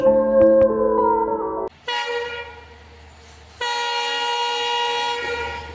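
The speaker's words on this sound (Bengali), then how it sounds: "ট্রেনটি এসে দাঁড়ালো স্টেশনে।" A train pulls into a station with a long, loud horn blast, then a sustained tonal whistle and rumble that break off briefly and resume, standing alone without speech.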